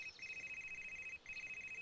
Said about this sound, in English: Oh, I thought that was my phone.